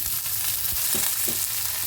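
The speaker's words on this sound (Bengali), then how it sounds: "রসুনটা হালকা ভাজা হতে হতেই কাচকি মাছটা এর মধ্যে অ্যাড করে দেব" Garlic and dried kachki fish frying in oil in a pan: a dense, continuous close-up sizzle with a few soft stirring bumps, and no voices.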